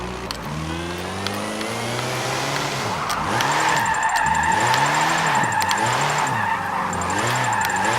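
A 1968 Meyers Manx on a rear-wheel-drive drift tune in Forza 7 slides with locked rear tires, its engine revving in rising and falling sweeps under a steady, loud tire squeal.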